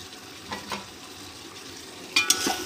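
Green chillies frying in haleem masala, stirred with a few scraping clatters against the pan over a steady low sizzle, close and moderately loud.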